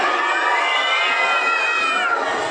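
A group of young children at an anganwadi arts festival hoot together on cue in a loud, sustained, rising chorus of high voices, held for a couple of seconds before trailing off.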